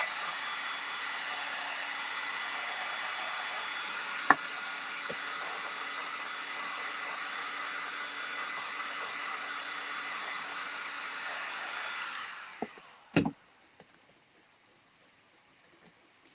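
A handheld dryer blows steadily on a glue prime coat brushed onto a craft box, a continuous whirring hiss for about twelve seconds that then winds down, followed by a few sharp clicks and handling knocks before near silence.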